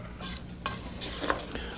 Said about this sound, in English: Now let's saute our rice now for about 1 or 2 minutes until it goes that delightful whitish colour